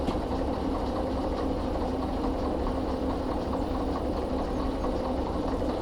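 A diesel locomotive idles in the Derail Valley train simulator, giving a steady low rumble with a faint knocking pulse that holds unchanged for several seconds, with no voices.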